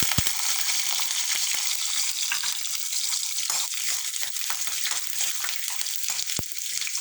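Finely chopped garlic sizzles and crackles steadily in hot oil for amaranth leaf curry, loud and close, with occasional stirring clinks and no talking.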